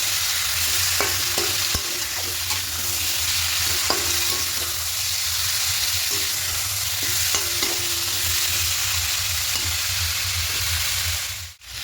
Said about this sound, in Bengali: এইভাবে করে চিকেনটাকে একটু হালকা করে ভেজে নেব।